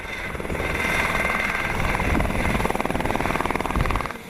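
A helicopter carrying sacred relics lands in a mosque courtyard after a flight of more than 200 kilometres from Dagestan. Its rotor chops loud and steady at close range, with engine whine throughout and the thumping pulsing near the end.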